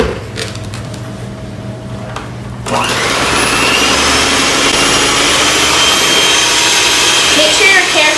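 An electric mixer starts up partway through and whirs loudly and steadily as it blends flour into sugar cookie dough, after a quieter opening with faint background noise.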